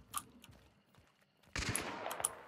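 Gunfire in Hunt: Showdown: a faint early shot, then a sudden louder burst of shots and rattling noise at mid-distance over quiet ambience.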